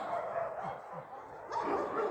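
An Alabai dog in an animal shelter gives a few short, moderately close barks and yips over a steady background hum.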